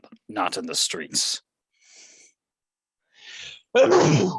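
A loud, close sneeze erupts at the end, after a person speaks briefly and a couple of soft breaths come through in between.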